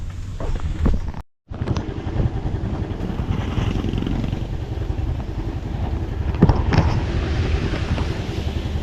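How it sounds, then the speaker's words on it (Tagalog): Motorcycle ride on the way to a shop, with a steady close engine drone and heavy wind buffeting against the microphone, one brief dropout near the start, and no talking. "At ito, sasakay natin ang motor ni Mary Joyce."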